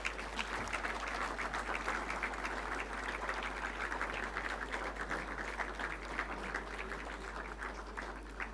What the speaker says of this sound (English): Please join in giving a big round of applause to welcome her.